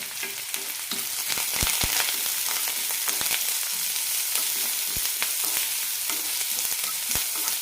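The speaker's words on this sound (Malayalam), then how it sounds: "ചെറുതായി അരിഞ്ഞ സവാള ഇടാം കൂടെ തന്നെ കുറച്ച് കറിവേപ്പിലയും നന്നായി വഴറ്റാം" Chopped onions and curry leaves sauté in hot oil for a horse gram curry, giving a loud, steady close-up sizzle broken by sharp clicks of stirring, with no talking.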